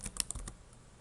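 Short burst of typing on a computer keyboard while entering JavaScript code, five or six quick close key clicks in the first half second, then quiet.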